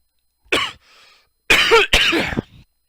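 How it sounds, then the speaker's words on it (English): A harsh cough, a short pause, then two more hacking coughs in quick succession, loud and close, with no speech. "I'm just coughing up a fit."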